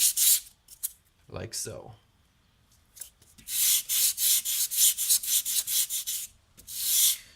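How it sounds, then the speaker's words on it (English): Sandpaper rubbing rhythmically on a small concave curved diorama accent piece, a run of close, even strokes after a few short scrapes, with a voice speaking briefly. "as long as that's not your last pass, you can usually sand that out"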